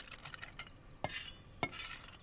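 A knife chops almonds on a board, with a few light taps followed by two sharp, isolated cuts close by in a quiet kitchen.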